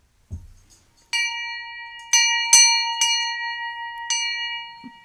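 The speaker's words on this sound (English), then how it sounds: "I think we need a bell." A small metal bell is struck five times at uneven intervals to open a live show, each bright ringing tone decaying slowly, preceded by a soft thump of handling.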